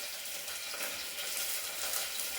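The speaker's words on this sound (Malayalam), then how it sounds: "ഇനി നമുക്ക് 2-3 വറ്റൽമുളക് അങ്ങോട്ട് ഇട്ട് കൊടുക്കാം." Two or three dried red chillies crackle in hot oil with fenugreek seeds in a pan for a Kerala fish curry, giving a dense, continuous hiss and sputter at close range, with no talking.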